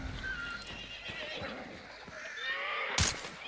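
A horse in the video game Hunt: Showdown whinnies and neighs with hoof clip-clops amid game ambience, and a sharp gunshot cracks near the end.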